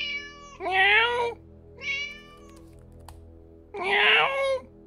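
A cat meows three times in the Alfred Hitchcock Vertigo video game: two drawn-out, close meows with a shorter one between them, set against a quiet background.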